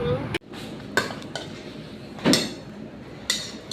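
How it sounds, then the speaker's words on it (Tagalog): A cooking pot lid is handled in a home kitchen, giving several sharp metallic clanks and clinks scattered irregularly over a few seconds, close by with quiet room noise between. "Grabe naman yung takip ng kaldero"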